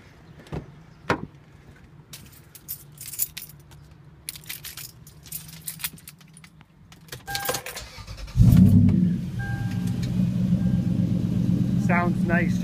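A Toyota 4Runner with a Magnaflow exhaust cranks over and fires up after some clicks and door-like clunks, the engine catching with a sudden loud burst and settling into a steady, throaty rumble.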